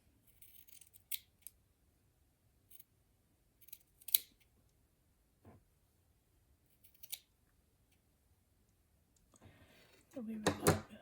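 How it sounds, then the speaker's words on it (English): Scissors snip excess fabric from a hand-quilted block in a few short, scattered cuts, faint and close, followed by a louder rustle near the end. "I'm going to trim off this excess"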